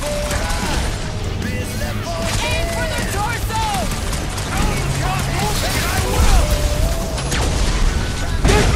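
Fireworks in the Guardians of the Galaxy video game, with rapid whistling launches and crackling bursts in a dense, loud barrage, mixed with game sounds and people talking.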